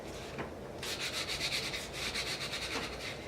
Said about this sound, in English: you're just going to keep smoothing it down as you pull for this large piece